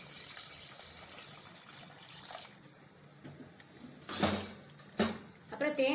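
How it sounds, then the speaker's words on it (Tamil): Water is poured into a pot of sardine fish curry in short splashes and gushes, fairly close and quiet, with sizzling and clinking in between. "இப்போ இதில் கொஞ்சம் தண்ணியும் சேர்த்துக்கலாம்."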